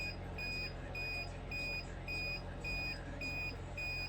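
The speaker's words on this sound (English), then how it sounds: "I thought I could mash it and it'll stop beeping," Steady, repeating electronic beeps at a regular interval, each a short high tone, over a constant low background hum.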